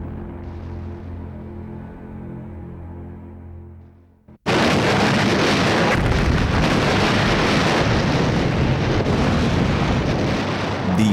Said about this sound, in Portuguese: os navios aliados começaram a bombardear a costa de França.